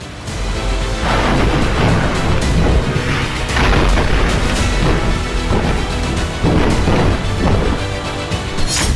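Missile strike on a commercial ship: a continuous loud barrage of deep booms and crashing blasts, repeated impacts rumbling one after another across the whole stretch, with no talking.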